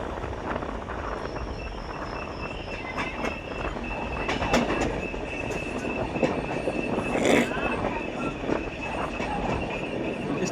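A passenger train on the Pune to Rajkot route rolls along with a steady rumble, rhythmic wheel clatter and thin, high squeals. Voices can be heard faintly beneath the noise.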